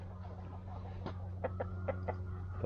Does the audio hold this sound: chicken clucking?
yes